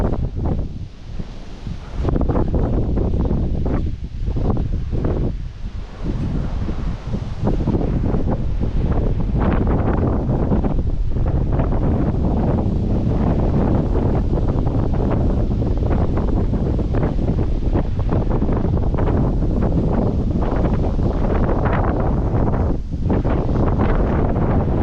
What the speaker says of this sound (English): Windy as heck up here.